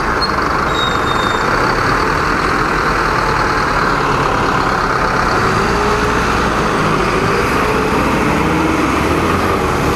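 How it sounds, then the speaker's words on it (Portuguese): A city bus engine roars as the bus pulls away from a traffic light, a loud, steady rumble sustained throughout amid street traffic, with no voices. "Veja que o ônibus deu a arrancada antes do sinal abrir."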